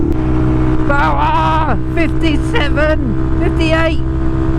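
A Honda Monkey bike with a Yoshimura exhaust drones loudly and steadily at speed, its pitch rising and falling through several short rev swells, with a voice speaking over it.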